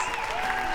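A short, dense burst of applause from a group fills the moment, steady and fairly loud, with no voices on top.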